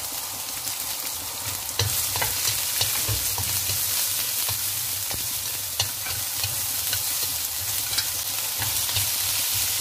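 Sliced onion stir-frying in hot oil with instant-noodle chili oil sizzles loudly and steadily, with frequent scraping clicks of a utensil stirring the pan, close up and without talk.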